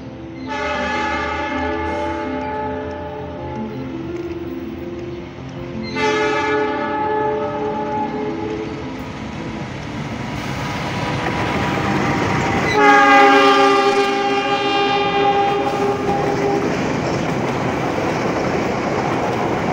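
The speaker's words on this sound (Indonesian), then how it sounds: "kereta api Argo Parahyangan yang sudah terlihat dari arah timur" The Argo Parahyangan express train passes near Padalarang, sounding its horn in three long, loud blasts over the steady rumble and clatter of the passing carriages.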